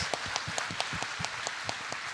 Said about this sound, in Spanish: quiero invitarlos para que les demos un fuerte aplauso